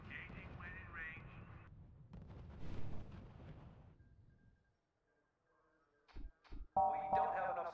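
Heavy gunfire and artillery blasts from the strategy video game R.U.S.E. come as sharp, loud bursts and thuds near the end, after a stretch of layered battle noise and a brief lull.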